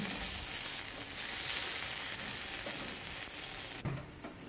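Onion, whole cumin, panch phoron and a large tomato sizzle and fry steadily in a hot kadai, a dense close hiss running throughout with a brief clatter near the end and no talk.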